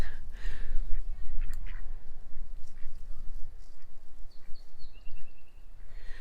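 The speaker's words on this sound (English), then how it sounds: "look at those cute ducks." Ducks in a food forest give a few faint, scattered quacks over outdoor background noise.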